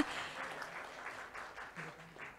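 Applause at an award presentation for a southern Thai business winner comes as a soft, distant patter of many hands, fairly quiet and continuous.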